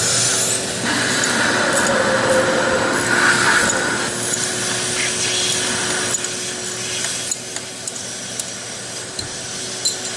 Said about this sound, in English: Sucks all the oil out of the foot tube